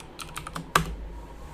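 A short burst of typing on a computer keyboard, four or five quick soft keystrokes and then one sharper, louder key press, heard close by with no talking.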